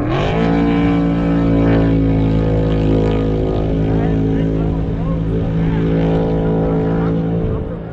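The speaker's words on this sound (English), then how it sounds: "these are alcohol burning boats" Alcohol-burning racing boats roar loudly and continuously at a boat race, a harsh, strongly pitched engine drone that holds steady and fades slightly at the end.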